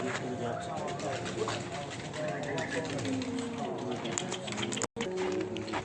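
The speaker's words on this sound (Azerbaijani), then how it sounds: "Bunlar hamısı gələn köydən gələn quşlar." Racing pigeons returned to the loft after a race coo softly and shuffle about nearby, a steady low murmur of birds under a man's speech, with a brief dropout near the end.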